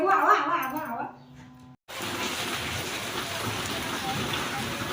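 Steady rain pours down on a surface, starting abruptly after a few seconds of people talking and continuing as a dense, even hiss to the end.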